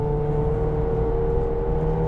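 A McLaren 720S supercar's engine pulls hard on a racetrack, a loud, steady close-up drone with a sustained tonal whine and no voices over it.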